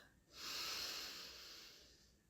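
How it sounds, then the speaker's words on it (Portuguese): One long, deep breath during guided breathing exercise, a close, airy exhale that swells quickly and slowly fades, with no talking over it. "De olhos fechados, mantenham a respiração de vocês bem profunda."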